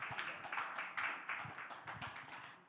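Several people clap at a National Action Network gathering, a steady patter of hand claps lasting a few seconds, moderately loud and close, with no talking over it.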